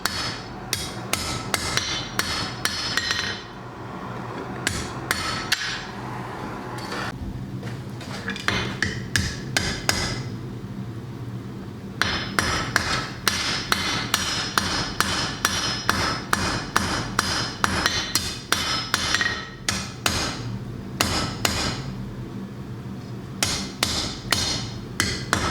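A hammer strikes hot metal on an anvil while forging a small Thor's hammer necklace, giving loud, close, rapid bursts of ringing blows separated by brief pauses.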